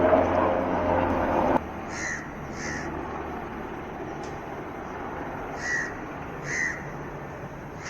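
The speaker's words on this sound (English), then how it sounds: "Wow, beautiful bird. Crows." Several crows caw in short bursts, two pairs of harsh calls separated by pauses, over quiet outdoor background noise.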